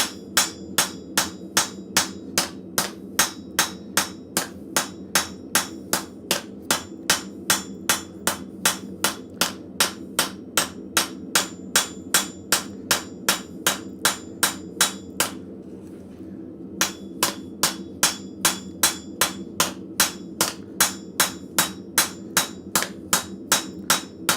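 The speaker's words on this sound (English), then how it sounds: "With the ball peen, I'm doing like a spiral as I go around it." A ball peen hammer strikes hot metal at a blacksmith forge, working in a spiral pattern. Sharp, ringing blows fall at a steady quick rhythm, close and clear, with one brief pause midway and the forge's low hum underneath.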